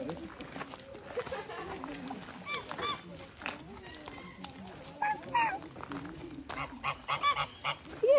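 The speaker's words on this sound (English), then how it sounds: "we have many ducks" Ducks and other fowl honking and quacking in an outdoor spot in Mexico, with repeated calls rising over steady crowd chatter and people talking nearby, the bird calls growing more frequent toward the end.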